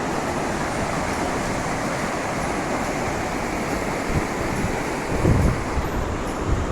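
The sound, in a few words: water rushing out of Jedarpalayam dam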